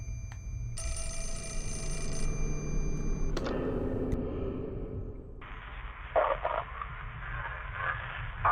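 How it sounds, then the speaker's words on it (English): In the video game Fatal Frame IV: Mask of the Lunar Eclipse, a telephone gives a steady electronic ring that stops after a moment. Other in-game tones and sounds follow, then a burst of noisy static. "Oh, phone call."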